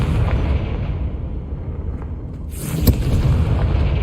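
A Confringo fire spell detonating in Hogwarts Legacy, a deep rumbling blast that swells and then cracks with a sharp burst, loud and close with a sustained roaring tail.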